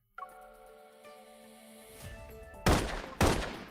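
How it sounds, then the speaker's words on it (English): Two loud gunshots in the game Love and Deepspace ring out after a quiet stretch of tones, each a sharp blast with a lingering roar, spaced about half a second apart. "I fire my last bullet at Benedict"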